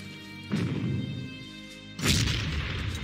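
In the video game Panzer Corps, artillery fires as two heavy booming blasts, the second stronger, over a steady game soundtrack with a constant background hum.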